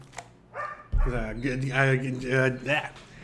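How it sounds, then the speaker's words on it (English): A pet dog cries and whines indoors, with drawn-out high whimpers and yips rising and falling over a few seconds, close to the microphone and fairly loud. "now Gizmo's crying for that"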